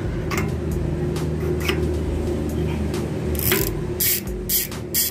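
Swordhub bicycle rear hub, not yet greased, spinning with a steady rapid clicking buzz, with several louder bursts of rattling near the end.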